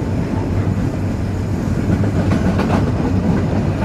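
The Kapotaksha Express runs on rails between Khulna and Rajshahi, a steady rolling rumble with rhythmic clickety-clack of wheels over rail joints, heard from inside the train with no talk.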